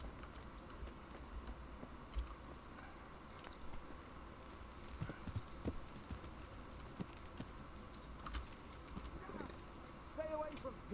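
Horse hooves clip-clop at a steady trot in the video game Kingdom Come: Deliverance, soft and moderately close beneath ambient game sound.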